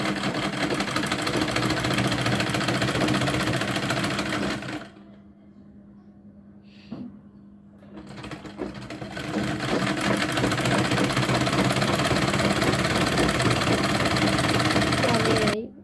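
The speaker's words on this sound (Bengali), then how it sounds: "এখন আমি এই কোনা থেকে শুরু করে চারপাশ হাফ ইঞ্চি করে বাদ দিয়ে সেলাই করে নেব" A sewing machine stitches a cloth nappy for a newborn. It runs in a loud, fast, steady whir, stops for about three seconds with a faint click, then resumes at full speed until the end.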